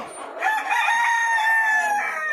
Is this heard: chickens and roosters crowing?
yes